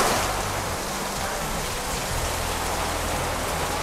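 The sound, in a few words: heavy rain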